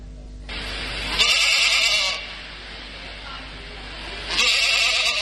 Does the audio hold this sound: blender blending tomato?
no